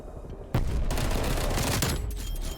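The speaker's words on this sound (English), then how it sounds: "Incoming artillery." Artillery and gunfire in the video game Black Ops Cold War: a sudden loud burst of rapid shots and blasts that rumbles on continuously for a couple of seconds.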